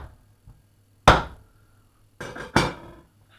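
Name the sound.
knife scraping chicken thigh bone and drumstick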